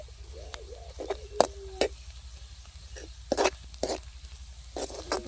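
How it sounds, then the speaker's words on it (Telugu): Pounded garlic and chili paste goes into a pan of browned onions and gets stirred: scattered scraping clicks and short bursts of stirring over a low steady hum, moderately close, with no talking. "ఇప్పుడు నేను దంచుకున్నటువంటి వెల్లుల్లి కారం ముద్ద అయితే ఇందులో వేసేసుకుంటున్నానండి"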